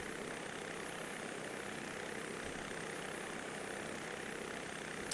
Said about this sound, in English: I've chosen this helicopter because she zooms pretty fast once we get her up to speed here